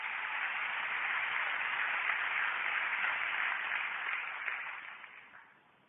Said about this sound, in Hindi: उनके लिए एक जोरदार ताली मैं चाहूंगा, प्लीज